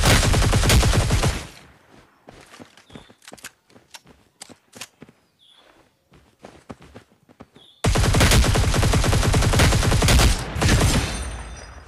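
Cyber Hunter Lite gameplay opens with dense, loud automatic gunfire. A quieter stretch follows with scattered single shots and footsteps, then heavy sustained bursts of fire return.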